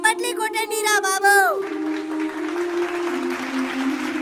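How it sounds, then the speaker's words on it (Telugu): After a brief stretch of someone talking, a crowd breaks into applause, a dense, steady wash of clapping that carries on to the end. "చప్పట్లు కొట్టండి రా బాబు"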